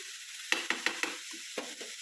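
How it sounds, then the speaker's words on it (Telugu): Chicken being stirred in a pan for a home chicken curry, with four quick scraping clinks in a row followed by a couple of softer scrapes over a faint steady sizzle, close and fairly quiet. "చికెన్ని ఇలా బాగా కలుపుకోవాలి."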